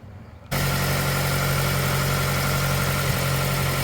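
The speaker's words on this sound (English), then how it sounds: "So let's go ahead and start the engine." A car engine, in a vehicle being checked for a suspected alternator fault that leaves the battery undercharged, cranks and catches after a brief quiet moment, then settles into a steady, loud idle with a constant low rumble and no talk.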